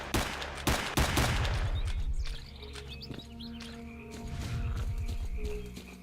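Gunfire in S.T.A.L.K.E.R.: Clear Sky, with two loud bursts of rapid automatic shooting, one at the start and one toward the end, and quieter ambience and faint bird chirps in between.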